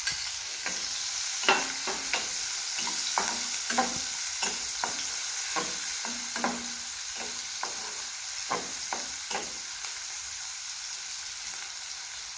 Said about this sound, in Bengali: আমি এখন এর মধ্যে কাঁচা মরিচ দিয়ে দিলাম, পেঁয়াজ কুচি দিয়ে দিলাম